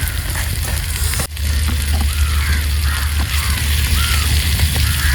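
Onions sautéing in a pan at a beach campsite, a loud continuous sizzle with a strong low rumble under it and one sharp click early on.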